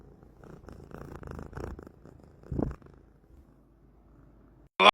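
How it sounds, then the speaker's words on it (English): A Maine Coon cat purrs softly up close with a low rumbling rhythm, swelling briefly before fading, ending with a sudden loud noise. "Give him some purrs, baby girl."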